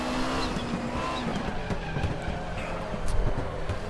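An Audi 90 IMSA GTO in the RaceRoom racing game runs at the Nürburgring with a steady engine drone, understeering with faint tire scrub and skid noise and a rougher swell near the end.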